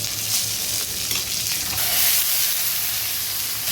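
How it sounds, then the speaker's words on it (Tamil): Curry leaves, mustard seeds and lentils fry in hot oil in a pan, a loud, steady crackling sizzle close by with no talking. "இது நல்லா வதங்கணும்."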